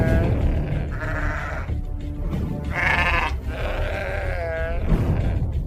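Sheep bleat several times, close and loud, with wavering calls over a dense background of livestock noise and faint low rumble.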